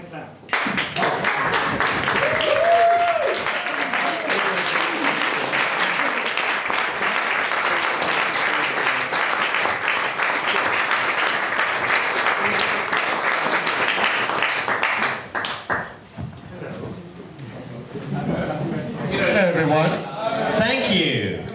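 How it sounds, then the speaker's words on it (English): Wedding guests break into sustained, loud applause and clapping right after a toast at a wedding reception, filling the room for about fifteen seconds before it thins out into scattered claps and voices. "You can clap."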